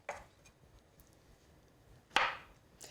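A kitchen knife chops food during a cooking lesson with a young child, two sharp separate blade strikes on a cutting board in a quiet room, one at the start and a louder one near the end.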